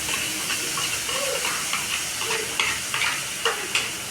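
Spices fry in a kadai with fenugreek and bay leaf, a soft continuous sizzle broken by scraping stirs and occasional clinks of the spoon against the pan, with no talking.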